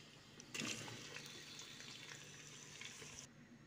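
Chicken, meat and onion frying in a mix of oil and ghee, a steady broadband sizzle that jumps louder after half a second and holds close and even for about three seconds before dropping away.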